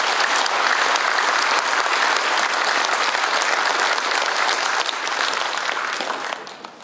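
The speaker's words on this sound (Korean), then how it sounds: "뜨거운 박수로 맞이해주시면 좋겠습니다." Audience applause welcoming a guest at an annual general meeting of a Korean Agent Orange veterans' association, loud, dense and steady for several seconds before tapering off at the end.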